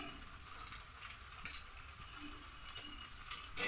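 Green beans fry in a pan for a vegetarian mixed vegetable dish, giving a steady soft sizzle with light stirring scrapes and a brief louder clatter near the end, no voices.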